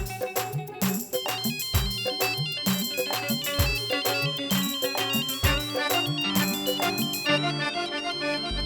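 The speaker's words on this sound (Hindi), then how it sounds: "फोन उठाइए।" A phone ringtone plays as a melodic musical tune with a steady beat, loud and continuous throughout, with no talking over it.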